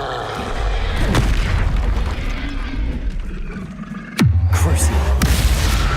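Explosion spells, Bombarda and Confringo, go off in the video game Hogwarts Legacy: heavy booming blasts with rumbling roars, one sharp burst standing out near the end, under a voice shouting spell names.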